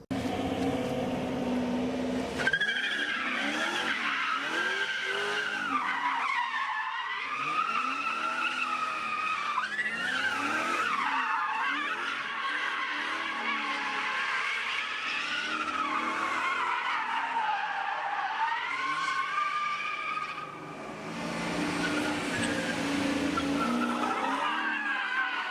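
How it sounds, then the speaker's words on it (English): Widebody Nissan 240SX drift car warming its tires with sustained, wavering tire squeal over a droning engine, loud and continuous for the whole stretch, rising and falling in pitch as the car slides, with no voices heard. "So I guess just doing a quick tire warm up."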